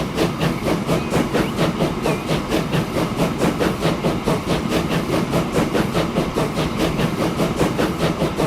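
A steam locomotive with tender running in the railway simulation game Transport Fever: loud, rapid rhythmic chuffing with hissing steam and steady rail clatter, continuous and close, with no talking.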